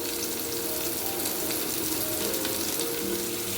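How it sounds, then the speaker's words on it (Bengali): Onions frying in oil with a cumin tempering, a steady dense sizzle that stays close and constant throughout, with faint stirring and clinks underneath and no talk. "একটু জিরে ফোড়ন দিয়ে দিলাম। পেঁয়াজটা দিয়ে দিচ্ছি"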